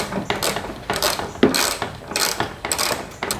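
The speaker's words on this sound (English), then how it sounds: "we're going to go ahead and tighten these screws up here at the top" Headlight housing screws on a Nissan Xterra being tightened with a ratcheting tool, giving a close series of rapid, uneven clicking bursts with no talking.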